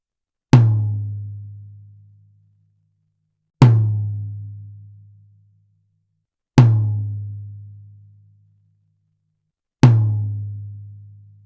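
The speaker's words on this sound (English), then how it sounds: "I'll play that tom, let you hear it." A tuned rack tom on a drum kit is struck four times at even, spaced intervals, each hit a close, punchy low thud with a slightly dipping pitch that rings out and decays fully before the next.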